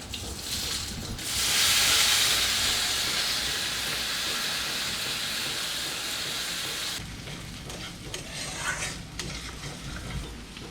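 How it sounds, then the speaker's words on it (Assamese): Washed rice fries in oil for an Assamese fish-head muri ghonto, a broad steady hiss that swells early, holds, then drops to a quieter sizzle with faint scraping, moderately soft and with no speech. "এতিয়া আমি তেলতে এই চাউলখিনি ভাজি লম"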